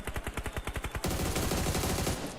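Rapid automatic gunfire crackles in a PUBG Mobile esports match: a run of evenly spaced shots for about a second, then a denser, blurred burst of overlapping fire, fairly close and with no talk.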